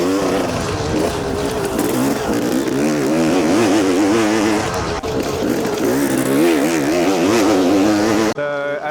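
Dirt bike taken through a sweeping corner in Vietnam by a rider standing on the pegs, loud engine revving up and down in waves with rising pitch sweeps as it accelerates, close and continuous.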